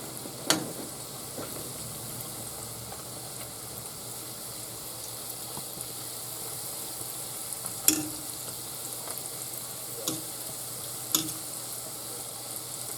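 Glazed donuts fry in hot oil, a steady close sizzle and crackle running throughout, broken by a few faint clicks and taps.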